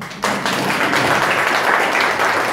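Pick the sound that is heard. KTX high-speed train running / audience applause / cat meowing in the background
audience applause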